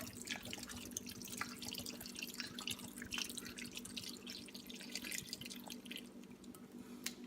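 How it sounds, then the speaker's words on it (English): Beef broth trickles from a can into a pot for kare-kare, a faint, steady patter of small liquid splashes and drips over a low hum, with no talking. "This time I'll put half of a can of beef broth"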